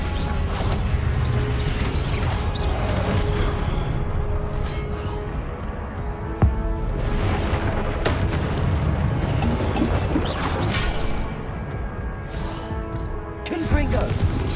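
Explosive blasts from the Confringo spell in Hogwarts Legacy, dense and continuous game combat with loud booms and crashes, sharper impacts landing around 6 and 13.5 seconds over rumbling background.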